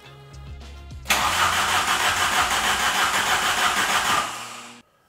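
A 1992 VW GTI engine cranking after sitting 8 years without firing, a loud steady starter churn lasting about three seconds before cutting off, preceded by faint clicks and a low hum.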